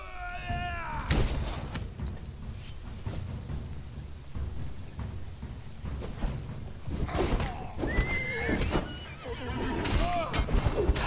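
A horse whinnies and neighs in Conan Exiles, with repeated calls over a low rumbling game backdrop, loud and near.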